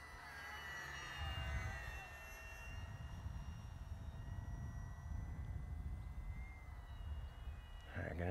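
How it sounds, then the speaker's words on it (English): An FMS PC-21 Pilatus 1100mm RC model plane cruises overhead with a steady electric whine and rushing airflow, holding an even mid-level drone throughout as someone talks beneath it. "This is just a nice cruising plane."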